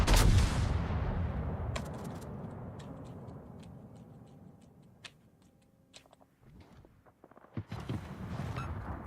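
Heavy naval guns boom in a World of Warships battle against a Petropavlovsk cruiser, a loud opening blast decaying into a long rumbling tail, followed by scattered sharp impacts and smaller reports with no talk.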